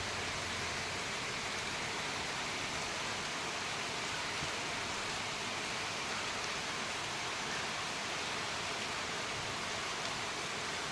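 Light rain falls steadily on trees and plants, a soft, even hiss with no distinct drops standing out, continuous and fairly faint throughout with no voices.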